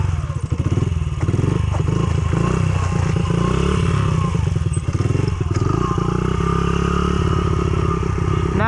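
A stunt motorcycle with bent forks is ridden gently through circle wheelies, its loud engine droning steadily throughout with occasional thuds and clatter.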